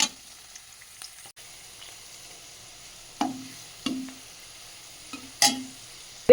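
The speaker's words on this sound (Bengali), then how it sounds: "এটা হচ্ছে কিনা একদম ডুবো তেলে ভাজতে হয়" Snacks deep-frying in plenty of oil over a low flame give a quiet, steady sizzle, broken by a few short stirring scrapes and clinks near the end.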